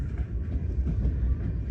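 A Southern Railways local train passes with a deep, steady rumble and low clatter, a brief continuous roll.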